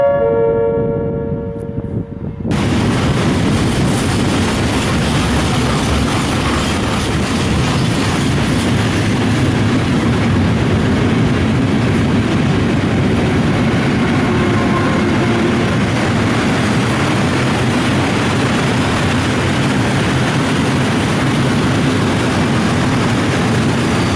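A Vectron EU46 electric locomotive hauls a PKP Intercity train through Łowicz Główny station, arriving after a brief announcement chime and then roaring past loudly and continuously with rolling wheel noise.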